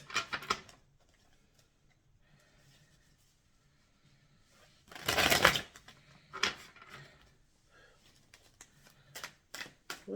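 Tarot cards are shuffled in a quick, rustling burst midway, with softer card handling and a few light taps before and after, in a quiet room.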